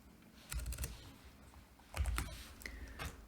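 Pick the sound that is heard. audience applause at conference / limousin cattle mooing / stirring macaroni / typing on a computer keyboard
typing on a computer keyboard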